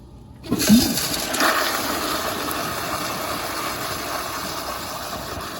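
A 1999 American Standard Madera toilet flushes a load of rocks, a loud, sudden rushing surge of water that settles into a steady roaring drain and refill, heard up close with no talking.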